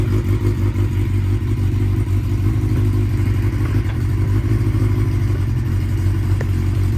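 A 1992 Honda Nighthawk 750 motorcycle engine runs steadily at close range, a constant throbbing idle with a slight clatter and no clear revving.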